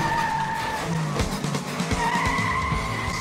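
Race car skidding and tire squeal on a NASCAR racetrack in an animated show, a loud screeching slide with engine roar, sustained over a few seconds.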